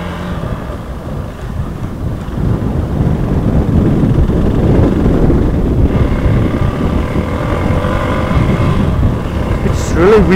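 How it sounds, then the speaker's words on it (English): Strong wind buffeting the microphone in a continuous low roar while riding a bike, with a rumbling engine-like drone underneath and a brief sharp noise at the end. "it's really windy"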